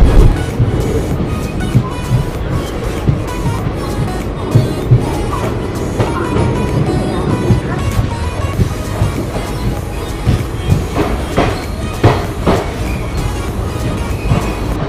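The Ala Hazrat Express pulls out of Jaipur Gandhinagar station on a foggy journey, with a loud, steady rumble and clatter of wheels on rail, plus sharp intermittent knocks toward the end, heard alone.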